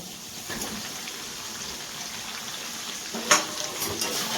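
Oil crackles softly as potatoes go into a pan of duck meat already fried down in plenty of oil, a faint steady sizzle with a brief clatter as they drop in.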